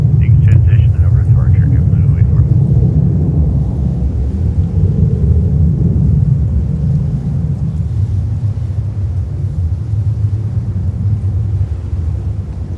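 An Etihad airliner being pushed back at New York JFK airport in arctic cold, a steady low rumble of aircraft engines running throughout, slightly louder at first, with brief high whining tones early on.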